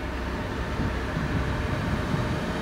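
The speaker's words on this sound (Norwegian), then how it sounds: "Her har vi IC3-toget" A Danish IC3 passenger train rumbles past steadily, a broad low roar with rattling undertones and no voices.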